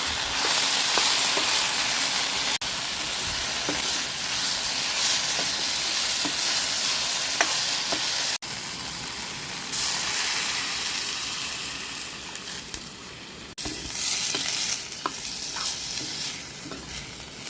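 A vegetable with stone-ground spices cooking in a pan, with a steady loud sizzle and hiss throughout and occasional faint scrapes of stirring, close by and with no voices.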